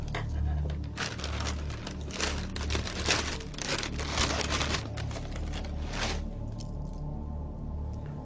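Dry breakfast cereal flakes rustle and crinkle as they are pulled from a box, a steady papery crunching that is busiest in the middle stretch and then thins out to a few faint crackles.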